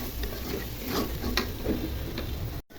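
Spices stir-fried with tomato sauce and a splash of water in a pan, giving a steady soft sizzle with a few light scraping stirs close by and no talk.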